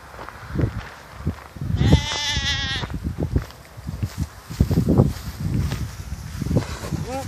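Sheep on the move give one loud, wavering bleat near the middle, amid outdoor rustling and footsteps, while people talk nearby.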